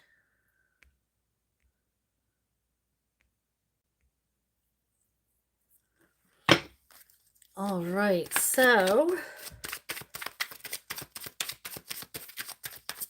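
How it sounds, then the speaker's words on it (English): Tarot cards being shuffled: after a brief spoken phrase, a quick run of crisp, papery clicks and flutters rattles along steadily, close and fairly loud. "I am shuffling for the collective."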